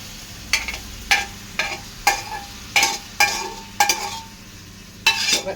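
Pork and Chinese potatoes (koorka) being stirred in a frying pan, with about eight rhythmic scraping strokes of a spoon over a steady sizzle and no voices.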